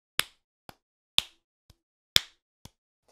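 Sharp clicks in a triplet rhythm, with the first and third clicks of each group markedly louder than the soft ones between them. The sounds are close, dry and isolated, with no talking.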